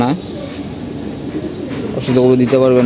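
Pigeons coo close by in a loft, soft repeated calls mixed with a person talking, growing louder toward the end.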